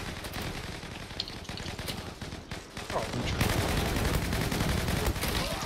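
Gunfire in the online shooter Zula, rapid cracking shots in quick bursts that grow denser and louder toward the end, with no talk over them.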